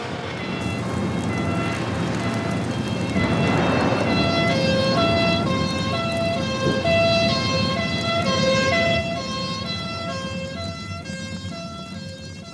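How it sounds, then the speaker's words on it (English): A fire engine siren wails steadily and loudly, its rising and falling tones sustained throughout, with road traffic rumbling underneath and no talking. "There's another fire engine coming"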